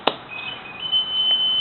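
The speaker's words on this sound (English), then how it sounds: "Now let's take a look now at the alarm system. I'm going to turn it on right now." A home alarm system switched on gives a sharp click followed by a steady, thin electronic beep tone that holds on, close and fairly loud.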